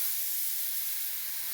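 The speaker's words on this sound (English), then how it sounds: "Now I'm getting ready to add my water. I'm going to pour." Cup of water poured into a hot pan of homemade Southern water gravy, giving a loud, steady broadband steam hiss and sizzle that holds evenly for the whole moment with no talking.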